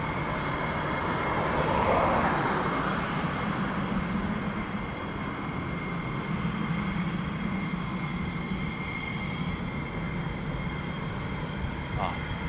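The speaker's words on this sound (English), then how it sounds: "Definitely hear aircraft moving." Fighter jet aircraft such as an F-22, F-15 or F-35 moving, heard as a steady, broad engine roar and rumble that swells slightly early on and then holds constant throughout.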